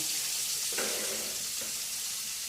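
Paneer frying in a pan, a steady broadband sizzle running unbroken throughout, fairly close, with a brief louder burst as the pieces go in.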